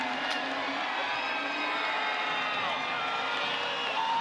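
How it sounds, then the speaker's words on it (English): A large crowd at Martinsville Speedway cheers and applauds Denny Hamlin's NASCAR Cup Series win, a dense, steady roar of voices and clapping heard from a distance, unbroken throughout. "There's so many applause. People are happy for Denny Hamlin."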